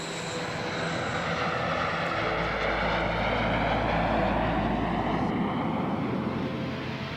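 A NASA T-38 jet trainer roars overhead, a loud sustained engine rumble and broadband whoosh that swells and holds before easing off.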